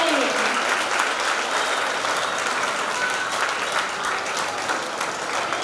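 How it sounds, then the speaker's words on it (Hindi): Steady, dense applause from an indoor audience at a spiritual gathering, sustained at an even level for several seconds with no break. "आप सभी की तालियां बजती रहनी चाहिए हम सबकी तरफ से।"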